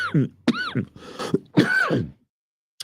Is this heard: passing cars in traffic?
no